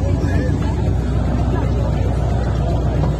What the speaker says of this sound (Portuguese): Algum V8 chegando aí.